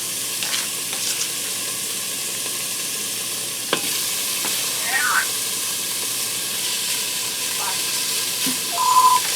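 Diced top round beef browning in an uncrowded Instant Pot, a soft steady sizzle and hiss with occasional stirring clinks, moderately close and fairly quiet throughout.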